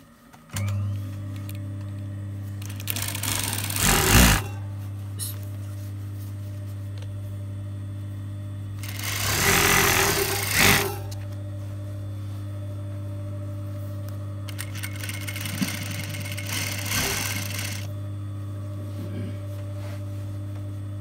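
An electric sewing machine stitches curtain fabric in three separate bursts of whirring stitching. A steady low motor hum runs underneath the whole time.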